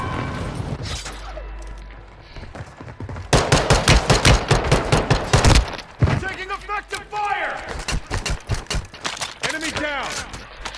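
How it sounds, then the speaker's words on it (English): Burst-fire gun shots ring out loud and close in a Call of Duty-style battle royale match on Ashika Island, with rapid clustered volleys and someone talking over the gunfire. "I thought that was a burst gun"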